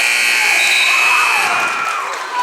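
A loud, sustained electronic end-of-quarter buzzer blares for a couple of seconds over a noisy crowd at a high school girls basketball game in a gym.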